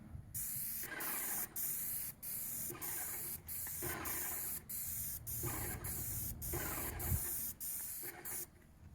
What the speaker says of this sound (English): I have it on low pressure on my airless gun.